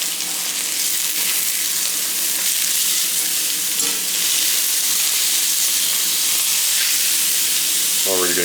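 Steaks sear in a newly seasoned cast iron skillet, giving a loud, steady sizzle and hiss that runs unbroken throughout, with a brief clink near the end.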